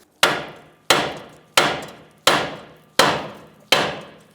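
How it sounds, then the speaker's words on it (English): Five loud, evenly spaced blows from a 5-pound sledgehammer striking a steel steering knuckle on a 2007-2015 Mazda CX-9 to shock the ball joint free, each sharp metallic impact ringing off before the next. "now we're going to use a 5-pound sledge right here on our knuckle, see if we can shock our ball joint free"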